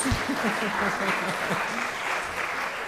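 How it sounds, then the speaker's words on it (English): A congregation at a Sunday worship service gives a round of applause, dense and sustained at a moderate distance, with a voice speaking over the clapping. "Let's give them a round of applause"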